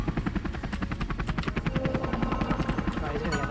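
In the Marble Blast video game, a helicopter power-up gives a fast, steady, rhythmic whirring chop that runs throughout at moderate volume, with a dense wash of game sound behind it.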